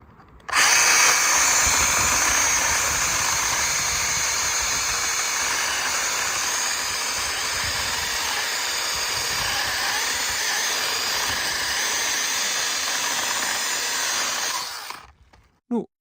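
A Makita UC029G cordless mini chainsaw cuts through hardwood branches, its motor holding a loud, steady high whine for about fourteen seconds before winding down and stopping.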